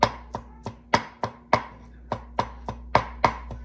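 A knife chops food for fried rice on a board in about ten evenly spaced, crisp, close strikes, each one alone against a quiet background.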